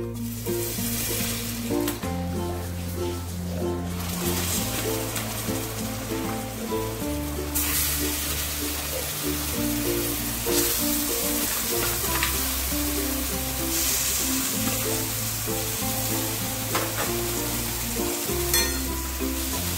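Taro leaves (kochu shak) hitting hot oil with turmeric in a pan and being stirred give a loud, continuous sizzle and hiss. Steady music plays underneath.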